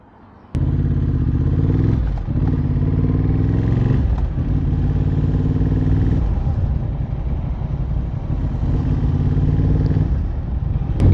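A 2024 Honda CB750 Hornet with a Scorpion Red Power exhaust idles, then blips its throttle in loud, close revs with deep harmonic rumble, rising and settling through several pulses, alone without talk.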